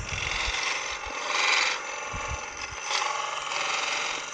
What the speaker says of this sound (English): And then I will take the skew to do the detail.